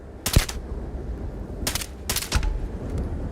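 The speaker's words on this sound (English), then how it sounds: "2 shots with a 1911" 1911 pistol gunshots in the video game Starfield: loud, sharp cracks arriving in separate bursts, one early, then two close together and another soon after, over low background noise.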